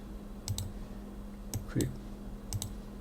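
Computer mouse clicking during software setup: three sharp double clicks spaced about a second apart, close and crisp over a faint steady hum, with a brief voice murmur in the middle.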